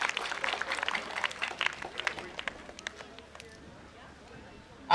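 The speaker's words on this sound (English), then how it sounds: "Let me hear an applause for that." An audience at a Garifuna Settlement Day event in Dangriga, Belize, claps and cheers in a brief burst that fades into scattered claps and murmuring before a speaking voice returns.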